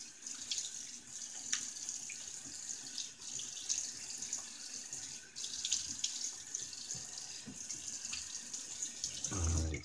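A bathroom sink tap runs steadily during a shave, its water hissing continuously into the basin with no talking, until a brief louder splash at the very end.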